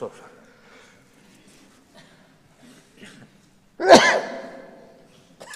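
A single loud, close sneeze bursts out sharply in a quiet room during a meeting with parliamentarians, with faint murmurs and soft voices around it.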